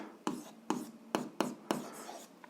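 Pen strokes on paper while writing out an algebra equation, five sharp scratchy taps in a steady rhythm, close and fairly quiet, with no talk over them.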